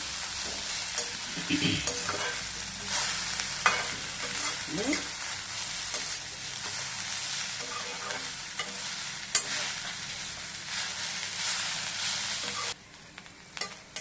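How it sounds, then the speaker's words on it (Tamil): Cluster beans sizzle and crackle steadily in a hot pan while a spoon scrapes and stirs now and then, with a few sharp clinks. "இந்த மாதிரி நல்லா பொரிக்கணும். ஃப்ரை பண்ணாதான் நல்லா இருக்கும்."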